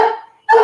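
A large dog of about 100 pounds barks at a door, two loud, close, deep woofs separated by a brief pause.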